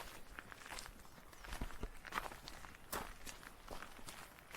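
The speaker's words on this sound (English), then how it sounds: "the footsteps trod ever closer" Footsteps trod ever closer in a tense scene, a steady run of soft, muffled steps against a constant noisy background throughout, with no voices.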